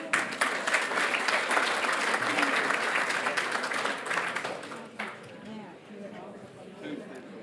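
Audience applause at the Victorian Aboriginal Honour Roll ceremony, a dense, loud round of clapping that holds steady for several seconds, then thins and fades as a few scattered claps and murmurs remain.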